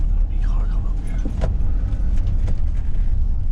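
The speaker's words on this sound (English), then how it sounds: "Big car coming up here." A big car rumbles past in the countryside near a flooded field, a steady low engine and road noise close by with someone talking over it.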